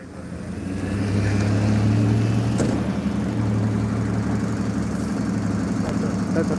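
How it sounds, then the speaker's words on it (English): A federal fire truck's engine idles nearby with a steady low, throbbing tick-over that swells in after the first second and holds constant throughout. "That's a federal fire truck."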